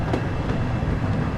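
A simulated train rolls into Juiblie station on the Peak Forest line in Train Sim World, its steady low rumble and faint rhythmic wheel clatter continuous and close throughout.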